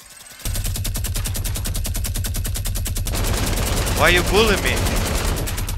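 Rapid automatic gunfire in a zombie shooter video game, a steady loud burst lasting several seconds, with voices talking over it partway through.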